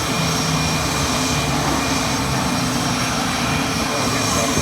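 A World War II Hawker Hurricane with a Merlin engine passes at an airshow, its loud, steady engine roar filling the air continuously, with voices from the crowd mixed in.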